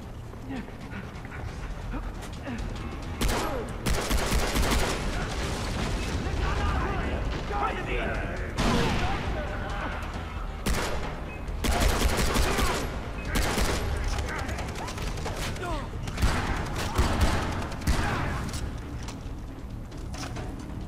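Rapid gunfire bursts from the video game Far Cry 3, loud and repeated across the whole stretch with sharp volleys over a dense background of game noise, some barking mixed in, and someone talking over it.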